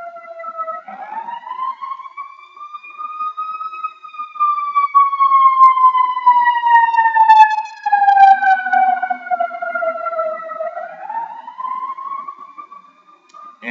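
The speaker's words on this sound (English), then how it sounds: "Ambulance was going by." An ambulance siren wails nearby, its pitch rising and falling in long sweeps as it passes, loud and clear with no other sound.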